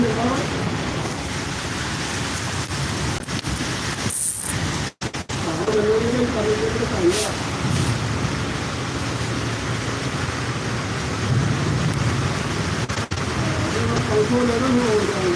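Heavy rain falling in a continuous dense wash, with a gusty rushing texture, a brief dropout partway through and a few faint bumps close to the microphone.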